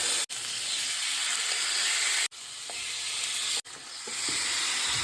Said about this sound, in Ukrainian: гріль вже розкалили, тепер викладаємо наше м'ясо